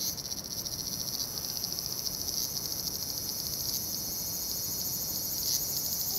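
A cicada in Japan buzzes in a continuous high, shrill drone that holds steady throughout, fairly faint against a quiet background, with no voices.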